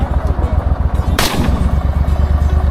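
A single sharp .22 rifle shot cracks out mid-clip during a hunt for giant rodents, standing out over a steady low rumble of engine or boat noise.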